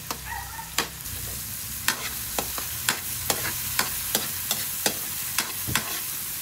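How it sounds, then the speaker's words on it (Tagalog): Tomatoes are sautéed in a pan for ginisang sayote, with a soft continuous sizzle and a regular series of sharp spatula clicks and scrapes against the pan. "Kaya muna nating maluto-luto ng konti yung kamatis."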